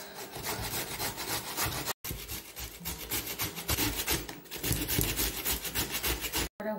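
Fresh peeled carrots grated by hand on a grater: close, steady rasping strokes that scrape on without a break, interrupted by two brief pauses.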